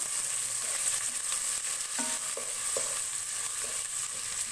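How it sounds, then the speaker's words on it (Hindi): Onions frying in hot oil in a pan for Pakistani mutton paya, a steady broadband sizzle throughout with a few soft stirring scrapes and clicks, close and continuous with no talking. "प्याज को फ्राई करेंगे।"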